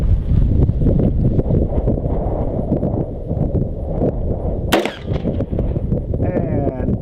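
A single sharp, loud rifle report from Federal tactical 5.56 NATO ammunition cracks out midway through a heavy, continuous outdoor rumble at a shooting range.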